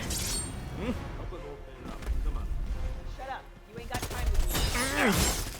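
Gunfire and explosive crashes in Predator: Hunting Grounds rattle in bursts while someone talks excitedly over the action.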